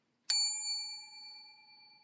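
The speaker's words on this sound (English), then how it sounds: "I'm going to ring it" A small bell rung once gives a sharp bright ding that rings on with clear sustained tones and fades slowly over about two seconds, with no other sound around it.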